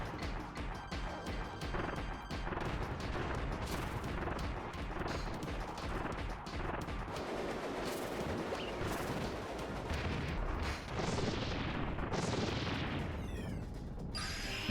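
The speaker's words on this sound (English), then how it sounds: "The damn cannon not hitting low enough to destroy those blocks." Cannon fire in Star Fox Command, dense repeated blasts and crashes in a busy, continuous game mix at moderate loudness.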